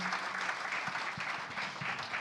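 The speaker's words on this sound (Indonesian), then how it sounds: "berikan tepuk tangan dulu yang kencang yuk buat Tuhan kita yang baik" A congregation applauds loudly during a Christian sermon, a dense sustained wash of clapping from many hands close by, steady from start to finish.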